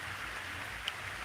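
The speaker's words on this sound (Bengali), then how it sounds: "বৃষ্টি ভালোই হচ্ছে এখন" Rain pours onto a pond in a brief burst, a close, constant patter and hiss of drops striking water, with one small sharp drip standing out near the end.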